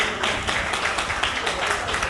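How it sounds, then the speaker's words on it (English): Brief burst of applause at a Mende naming ceremony in Sierra Leone, a steady, moderately distant patter of many hands that fills the whole moment. "A very big round of applause."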